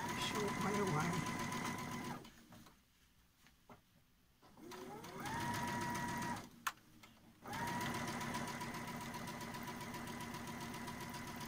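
A sewing machine stitches fabric for a face mask in steady, whirring runs that stop and restart several times, with short pauses between runs.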